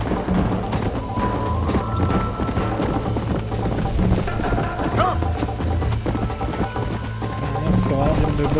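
A horse gallops in Red Dead Redemption on Xbox 360 with steady, rhythmic clip-clop hoofbeats over game ambience, and a voice talks over it.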